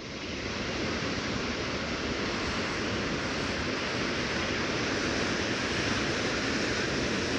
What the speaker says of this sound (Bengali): একের পর এক ঢেউ উঠছে,